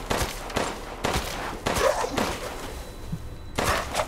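Gunshots in the horror video game Resident Evil Village, fired at werewolves in a village, come as a string of loud, separate blasts about half a second apart.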